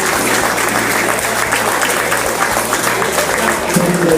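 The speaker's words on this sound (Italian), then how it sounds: "vorrei fare un applauso a Don Roberto e Don Marco" An audience applauds Don Roberto and Don Marco at a civic award ceremony in Certosa di Pavia, a continuous dense clapping wash over a low steady hum, holding at an even level throughout.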